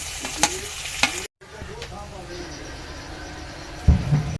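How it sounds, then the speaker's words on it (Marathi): Onion fries in a pan as it turns brown before tomato is added. A spoon clatters and scrapes through it in a few sharp strokes over a steady close sizzle, with one brief dropout. "कांदा थोडासा लाल ब्राऊन होणार तेव्हा हे टमाटर टाकून देणार आपण"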